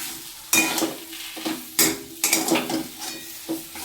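A spoon clatters and scrapes against a pan while roasted cumin powder is stirred into a sizzling curry, in several sharp, uneven metallic knocks over a soft frying hiss.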